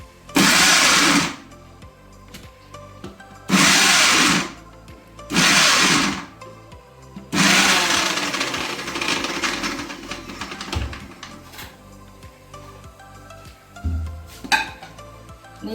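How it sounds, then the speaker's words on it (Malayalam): A kitchen mixer grinder whirs loudly in three short bursts, then runs a longer stretch as it blends mango, fresh coconut and curry leaves into chutney, with clinks and knocks afterward. "ഇനി അതൊന്ന് മിക്സിയിലൊന്ന് അടിച്ചിടും"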